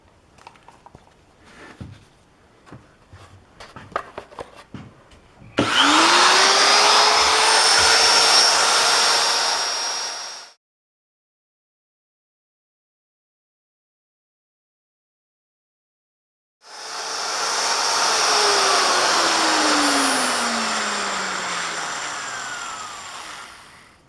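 Power grinding on an aluminum triple clamp for a custom Harley, two loud sustained bursts of several seconds each with a silent gap between, preceded by light clanks and handling.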